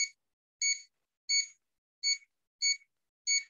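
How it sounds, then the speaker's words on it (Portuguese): A multimeter on continuity test gives six short, high, evenly spaced electronic beeps roughly two-thirds of a second apart, clean and close against silence, while checking a single-phase distribution board; no one speaks. "Teste de continuidade é aquele de BIP"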